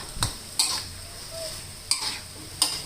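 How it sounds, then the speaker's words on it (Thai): Bell peppers and pork are stir-fried in a pan, with a soft sizzle underneath four sharp metallic scrapes and knocks of a spatula against the pan, spaced unevenly and close by. "ผัดพริกหยวกใส่เนื้อหมูนะคะหรือ นี่ค่ะ เราก็ผัดอีกสักนิดหนึ่งนะคะ"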